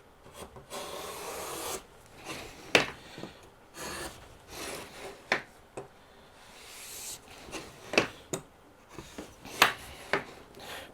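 HONGDUI chamfer plane shaving an edge of wood, a series of rasping strokes with sharp scraping peaks, close and fairly quiet, with no talking.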